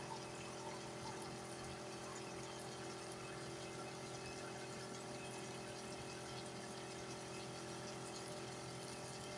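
A steady rush of water pours continuously into a cooking pot, even and unbroken, with a low hum beneath it.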